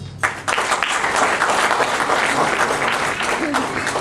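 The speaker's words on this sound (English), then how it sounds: "a round of applause, please" An audience breaks into applause after a vote of thanks at a program ceremony, starting abruptly and continuing as a steady, fairly loud wash of clapping.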